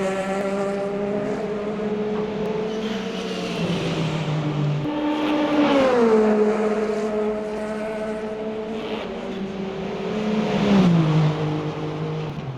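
Race car engine in the Le Mans Ultimate sim, a steady loud drone with rising and falling pitch as the car slows and shifts gears on entering pit lane, engine harmonics sweeping down twice.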